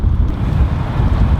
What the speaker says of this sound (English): as you can hear, it is pretty windy today